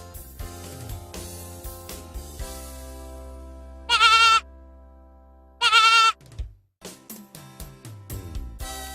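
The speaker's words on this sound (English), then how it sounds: "Goat." A goat gives two loud, separate bleats a couple of seconds apart, each standing out clearly over quiet background music.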